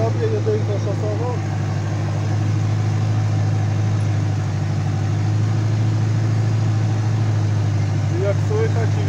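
An Ursus C385 turbo tractor labours under heavy load during no-till field work, its engine a steady, loud, deep drone that holds throughout; occasional voices are faintly audible over it.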